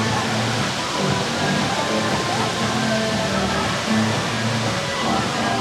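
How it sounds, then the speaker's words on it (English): Fountains splashing at Blackpool Pleasure Beach, a steady, dense wash of falling water that stays loud and even for the whole stretch, with no voices over it. "Like the fountains are nice"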